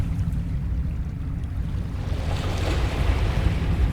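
Water washes and laps at the base of a deep rocky chasm in a steady low rumbling surge that swells slightly toward the end. No voices are heard.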